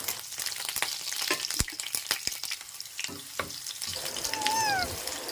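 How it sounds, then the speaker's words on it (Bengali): Chopped onions fry in hot oil while a spatula stirs and scrapes the pan, a steady close sizzle punctuated by sharp utensil knocks, with a few high squeaky tones near the end. "পেঁয়াজটাকে দিয়ে এটাকে নাড়াচাড়া করে হালকা বাদামি বাদামি কালার করে নেব"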